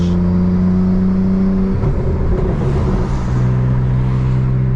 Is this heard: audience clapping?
no